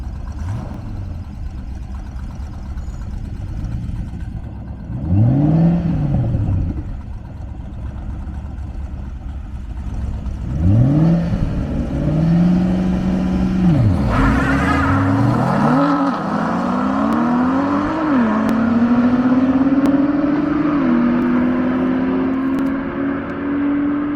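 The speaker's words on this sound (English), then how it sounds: "You got to see 3 legendary cars race. You had the old Ford GT40 from the 60s." Legendary race cars, including a 1960s Ford GT40, run on an airstrip. Engines rise and fall through gear changes as cars pass one after another, then a loud engine climbs steadily toward high revs.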